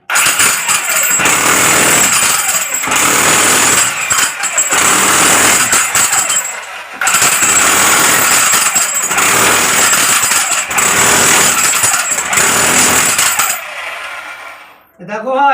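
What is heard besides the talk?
large chipping machine chipping a room before plastering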